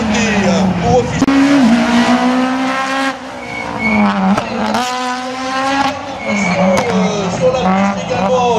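A Citroën Saxo race car screams around a slalom course, engine revving high and dropping between corners with brief tire squeal, loud and close under excited commentary.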